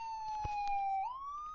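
An ambulance siren from the game Ambulance Doctor Simulator 3D wails in a steady high tone, then sweeps upward, clean and fairly loud with a brief click partway through.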